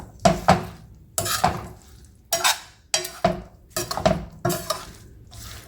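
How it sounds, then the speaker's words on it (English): Green chilies soaked in turmeric and salt are mixed for an instant pickle, giving six or seven close, loud bursts of scraping and clattering against a bowl, each separated by brief silence. "So we just have to mix the green chilies."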